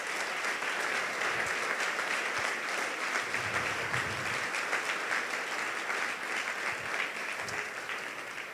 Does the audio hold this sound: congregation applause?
yes